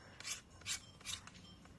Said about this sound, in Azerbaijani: Mən yorulsam biraz da sən yonarsan Mustafa.